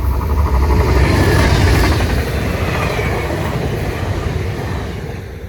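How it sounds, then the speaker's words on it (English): A train rumbles past steadily at close range, a loud continuous roar of wheels and cars that gradually fades toward the end without stopping. "But that train did not stop, and it was supposed to come from this side."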